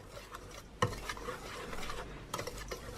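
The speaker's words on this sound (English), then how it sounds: "Just gonna mix it together with this to make sure that everything is well mixed together." Dry muffin ingredients with cinnamon being stirred in a bowl, soft scraping and rustling with a couple of sharper knocks of the utensil against the bowl, fairly quiet.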